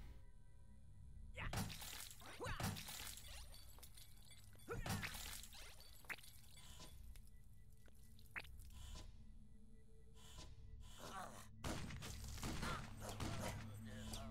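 Bursts of gunfire from a weapon in the game Utopia 9 crackle in short, sharp volleys at irregular intervals, with quieter gaps and faint talk between shots.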